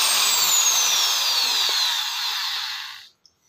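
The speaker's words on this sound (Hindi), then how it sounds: "ड्रिल उस वुड मटीरियल को बाहर निकाल देती है" A power drill bores into wood to make pilot holes for the screws of a bottom-mounted drawer runner, giving a loud, steady whirring grind for about three seconds before it cuts off abruptly.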